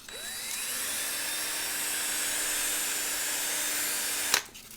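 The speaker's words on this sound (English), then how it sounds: "if you pull on the sandpaper as you're spinning it, it kind of straightens the axle out" Small die-cast Matchbox toy axle spun against sandpaper by a rotary tool, a steady high whine that climbs in pitch then holds, close and constant, ending with a sharp click as it stops.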